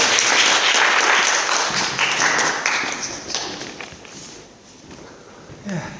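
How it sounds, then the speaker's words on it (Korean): A church congregation gives a pastor warm, sustained applause, loud at first and gradually thinning out, with a few scattered taps and footsteps as it dies down. "박수로 한번 맞이할까요?"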